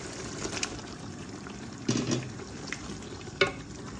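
Mutton pieces fry in a pan for Kalandri pulao, a low continuous sizzle punctuated by three louder bursts of stirring and scraping spread across the few seconds.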